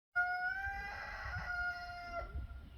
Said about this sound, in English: that rooster just learned how to crow